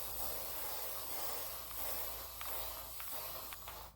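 An aerosol spray can hissing in a tiny house during kitchen counter building, a faint, continuous broadband spray with a few short bursts near the end.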